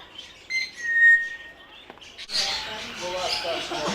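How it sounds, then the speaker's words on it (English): African grey parrots at a caravan and motorhome club site in Merseyside, Southport, giving sharp whistles and chirps, then a burst of harsh, overlapping screeching and squawks from several birds nearby. "it's the African greys"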